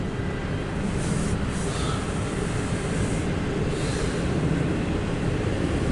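A Norfolk Southern train rolls eastbound along track 1, a steady, loud, broadband rumble of wheels and cars that holds unbroken from start to finish with no voices.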